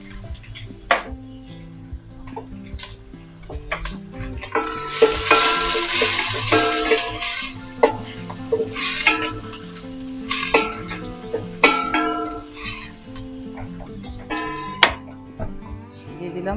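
Onions sizzle loudly in a hot pan and are stirred, with repeated scraping and clattering of a utensil against the pan over a continuous frying hiss. A voice speaks briefly now and then.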